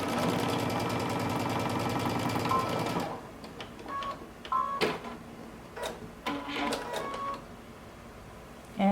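Sewing machine stitching folded mustard sweater bands, a steady rapid mechanical whirring for about three seconds, followed by scattered clicks and small handling noises.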